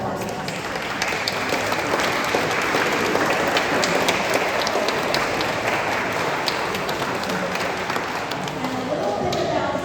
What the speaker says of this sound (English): will you give them a round of applause for being here and being part of us